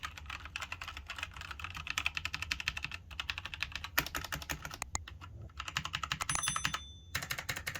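Steady typing on a Logitech G513 Carbon mechanical keyboard with GX Brown tactile switches, a dense run of quick close keystrokes with brief pauses and no talk.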